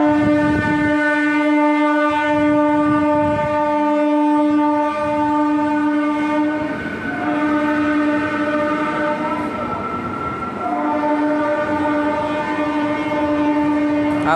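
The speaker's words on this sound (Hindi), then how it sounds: "फतेहपुर से जाने वाली पैसेंजर ट्रेन जाते हुए" A passenger train departs Fatehpur station, its horn holding a loud sustained blare through most of the clip over rumbling wheels and rail noise, close by and dominant.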